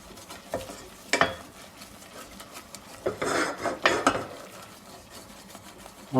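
A spoon stirs sauce for lasagna Siciliana in a pot over low heat, producing soft, close scraping strokes in irregular bursts against a quiet background.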